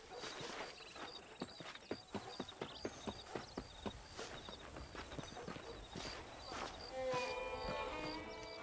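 A horse's hooves clip-clop in a steady, even rhythm across dirt in Red Dead Redemption, soft and moderately near, with a faint jingle of tack toward the end.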